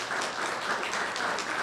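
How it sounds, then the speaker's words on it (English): A short burst of audience applause for sixth grade spellers at a school district spelling bee final, moderate and steady clapping from a hall crowd. "Can we give them another round of applause?"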